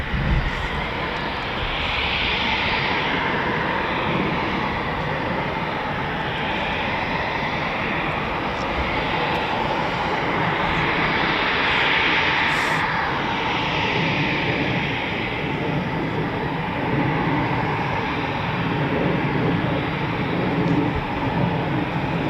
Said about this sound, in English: So it's another Typhoon just taxiing out now.